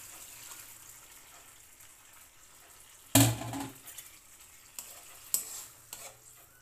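Water is poured into a hot pan of sautéed canned sardines, setting off a sudden loud sizzle that fades into bubbling, with a second smaller hiss a couple of seconds later.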